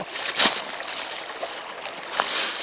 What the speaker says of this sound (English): You can probably hear the creek behind you, so I guess you can just enjoy the sounds of the creek while I'm working